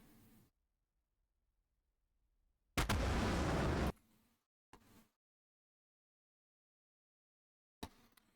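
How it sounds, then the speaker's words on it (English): A missile explodes in a flight combat video game as one loud, roughly one-second blast, followed by a few short bursts after stretches of silence. "it's about to explode"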